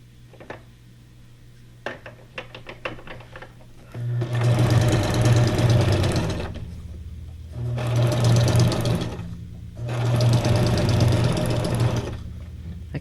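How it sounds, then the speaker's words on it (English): A sewing machine stitches around paper junk journal ephemera in three loud, steady bursts of rapid whirring, with short pauses between them filled by faint clicks and handling noises. "I'm just stitching around it real quick"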